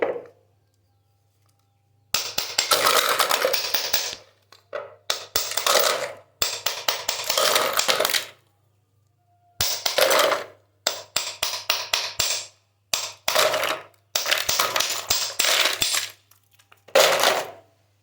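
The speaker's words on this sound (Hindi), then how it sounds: "गोला गंडा बनाने के लिए सबसे पहले हम बर्फ़ को तोड़ लेंगे।" Ice being broken up by hand at home for ice gola, a run of sharp, hard cracks and clatters in close bursts with short pauses between, loud and near.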